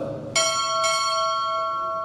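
Two bell strikes ring out at a U.S. Navy chief petty officer pinning ceremony, sharp and loud, the second following about half a second after the first, with long shimmering tones that sustain and overlap.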